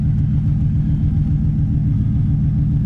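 A 6.0 liter LS-swapped C4 Corvette idling in gear with its wheels spinning, a loud, steady low engine rumble held close and unbroken.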